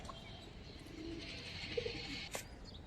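Silver-coloured and army pigeons cooing softly at a market, with a few low calls and a brief flutter over steady background noise.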